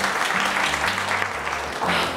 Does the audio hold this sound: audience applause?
yes